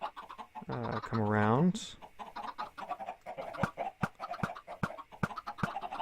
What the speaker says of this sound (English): You've got chicks down here. The chickens are up laying eggs.